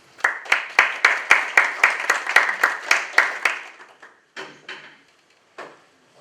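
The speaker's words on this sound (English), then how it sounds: "Let's get a hand of applause." A small audience at a city business event applauds with a brisk run of distinct claps that thins out into a few scattered final claps.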